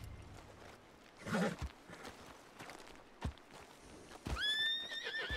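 A horse in Red Dead Redemption 2 gives a sharp neigh and a later drawn-out whinny, with scattered clip-clop hoof steps in between, moderately close.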